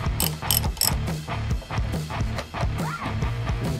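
Ratchet wrench clicking in quick repeated bursts while bolting a comfort handlebar riser onto a Kawasaki Ninja H2 motorcycle, loud and close with a steady mechanical rhythm.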